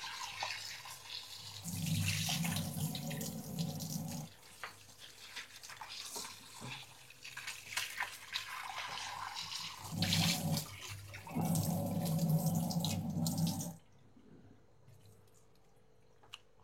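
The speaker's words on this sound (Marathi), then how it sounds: "दोन पाण्याने मटण धुवून घ्यायचं" Mutton is washed with water in a sink, with bursts of running tap water, splashing and wet squishing of the meat in uneven spells, close and moderately loud, ending in near quiet.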